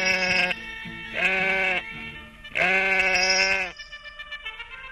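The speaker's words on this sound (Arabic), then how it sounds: "سيب الخروف" Sheep bleating in a radio drama, three long wavering bleats close and loud, separated by short pauses, with faint rustling at the end.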